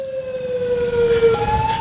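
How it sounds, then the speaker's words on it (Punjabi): A police vehicle's siren wails steadily in busy city traffic, a sustained rising-and-falling electronic tone that stays loud and close over a low rumble of engines, with no voices. "ਆਪ ਤਾਂ ਇਹ ਪੁਲਿਸ ਪ੍ਰਸ਼ਾਸਨ ਹੂਟਰ ਮਾਰ ਕੇ ਇੱਥੋਂ ਲਗਾਤਾਰ ਆਪਣਾ ਰਸਤਾ ਸਾਫ਼ ਕਰਾ ਕੇ ਨਿਕਲ ਗਏ ਨੇ"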